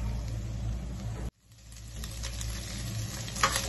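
Bacon frying in a pan for carbonara, a steady close sizzle with a brief cut to near silence before the crackling returns and continues.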